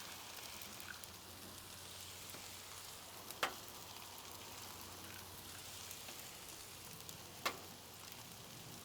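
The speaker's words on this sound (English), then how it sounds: "We're gonna get those eggs scrambled around in there." Scrambled eggs and rice sizzle on a flat griddle as a steady, hissing wash of frying, with two brief sharp scrapes of a spatula against the metal.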